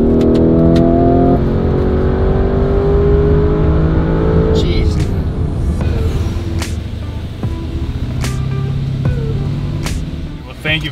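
A Lamborghini engine revs hard while the car drives up a hill, a loud, close roar that climbs and shifts in pitch, with excited voices over it.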